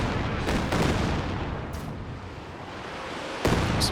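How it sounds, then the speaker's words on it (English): Mortar rounds from a creeping barrage in the Company of Heroes 2 battle game, landing as deep, booming blasts over a continuous heavy rumble, with separate impacts standing out at the start and again near the end. "Is that a creeping barrage from William Harrison?"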